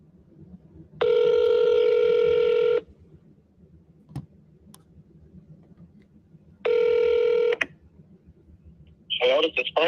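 Two long bursts of telephone dial tones, each about two seconds, separated by quiet with faint clicks, heard while a call is placed to a listing agent; a short warbling ring sound follows at the end.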